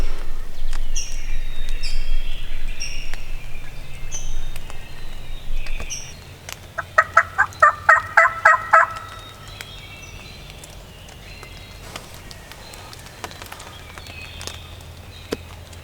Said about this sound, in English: He's gobbling his head off right now, as long as some hens don't take him away.